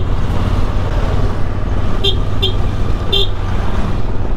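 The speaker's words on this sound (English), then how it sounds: "We've had to resort to going through the traffic like this, like all the other bikes." A motorcycle filtering through a city traffic jam in São Paulo, with loud continuous engine and road rumble, surrounding vehicles and a couple of brief car horn toots close by.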